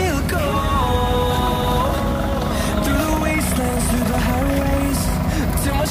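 A farm tractor idling in a groundnut field during harvest season, its steady low engine drone continuing throughout at close range and fairly loud.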